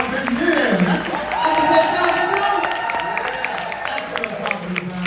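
Applause and cheering from a crowd at a chamber of commerce event, loud continuous clapping mixed with whoops, while a voice talks over it.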